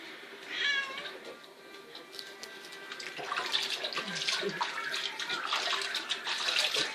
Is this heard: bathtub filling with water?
yes